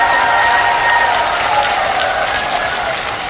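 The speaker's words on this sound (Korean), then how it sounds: "부인의 박수소리도 끝나지 않네." An audience at a women's singing class claps steadily in a dense, continuous burst of applause that fades slightly toward the end.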